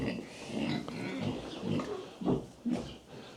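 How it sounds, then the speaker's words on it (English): Pigs on a farm oink and grunt in a string of low, rough bursts, close and fairly loud, with the last few grunts coming in quicker, heavier pulses. "The pigs are always ready."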